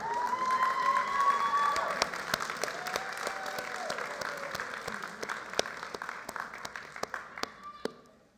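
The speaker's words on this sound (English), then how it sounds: "Everybody, we're going to clap for you." An audience at a 2023 graduation ceremony for the Davis School for Independent Study claps in a dense, sustained burst that gradually thins into scattered individual claps before fading out.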